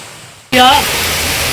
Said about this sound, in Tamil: தண்ணியில் நீரோடை அதிகமாக தான் போகுது